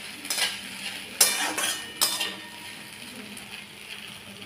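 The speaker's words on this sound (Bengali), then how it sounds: "এবার আর একটু 1 মিনিট একটু নাড়াচাড়া করব।" Okra, potato and poppy seed fry stirred in a pan: a spatula scrapes and clinks against the metal several times over a faint sizzle, close and without talk.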